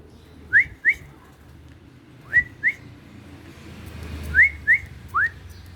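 Short, sharp human whistles, three pairs and a single, rising in pitch, imitating the call of a cucak rowo songbird, heard against a quiet outdoor morning background.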